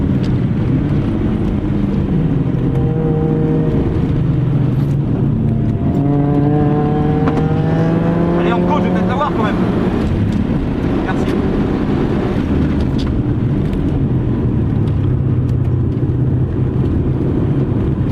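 Race car engine held at full throttle around a track lap at Magny, a loud continuous roar with rising pitch sweeps as it climbs through the revs, heard close from inside, with wind rush and a voice talking over it.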